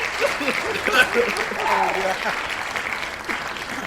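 Applause from a crowd, steady and moderately loud, with a few louder claps and cheers rising above the clapping throughout.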